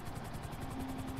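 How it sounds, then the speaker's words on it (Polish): A helicopter in the video game GTA V flies close by, a steady loud rotor chop with a sustained engine drone running continuously and alone. "Nie wiem, co to jest za helikopter."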